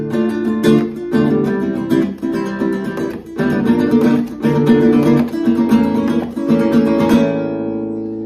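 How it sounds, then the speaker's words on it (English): Rhythmic flamenco rumba guitar strumming, loud and close, with steady percussive strokes on repeating chords that ring out and fade at the end. "I would have a rumba that sounds like this"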